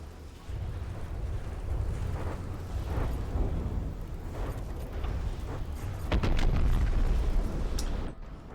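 Mortar shell explosions in the naval combat game From the Depths, a continuous rumbling roar of overlapping booms with sharper bursts near the end, no talk.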